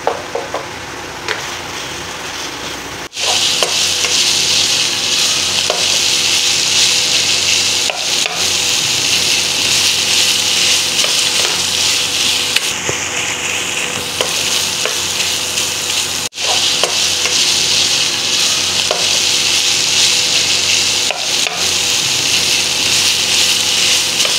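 Minced mutton qeema frying in a karahi makes a loud, steady sizzle with scraping stir strokes throughout, close up, with a couple of brief breaks and no talking.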